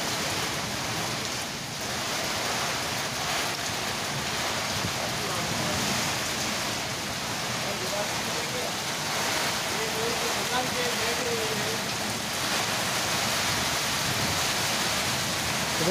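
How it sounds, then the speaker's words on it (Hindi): Heavy rain in a storm pours steadily over a flooded road in Hadad, a dense, continuous hiss filling the scene at close range and unchanging throughout. "यहां पर देखिए तूफान के साथ बारिश हो रही है"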